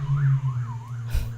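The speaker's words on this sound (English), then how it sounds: "sirens" A wailing emergency siren rises and falls in slow sweeps, loud and steady, with a deep low hum beneath it and a brief burst of noise near the end.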